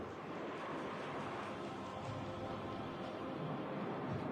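Sea waves wash steadily against the shore at Playa Rosario, where the sea has overtopped an old seawall, forming a constant broad roar with some wind buffeting, and no talking.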